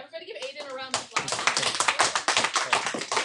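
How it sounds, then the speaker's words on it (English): A brief voice gives way to a small group of students clapping, quick uneven claps in a classroom, moderately loud. "All right, everybody give Aiden a round of applause."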